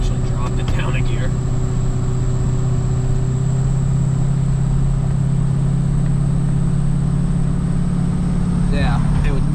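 A truck engine rumbles steadily in a lower gear while rolling down a hill with a loaded hay hauling rig, a constant close drone that holds throughout with no talk over it.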